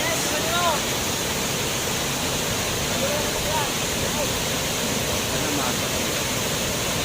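A waterfall roars in a steady, dense wash of rushing water, loud and constant throughout, with faint voices barely showing beneath it.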